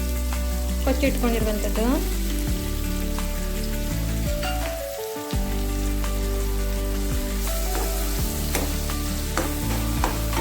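Chopped tomato frying in a pan makes a steady sizzle beneath loud, tonal background music, with a voice speaking briefly.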